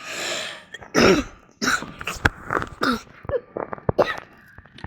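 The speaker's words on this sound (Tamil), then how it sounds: "எனக்கு வேறு இருமல் வருது" A person coughs and clears their throat repeatedly at close range, a series of harsh bursts with short breaths between.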